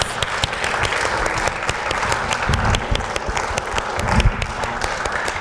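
Audience applause at a university school of education leadership event, steady dense clapping from a crowd filling the whole stretch, loud and sustained with no speech over it.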